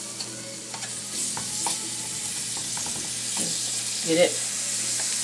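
Fish frying in olive oil in a pan, a soft continuous sizzle with occasional scrapes and stirring knocks, while a person talks briefly over it.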